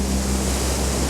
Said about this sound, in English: these waves coming back off the rock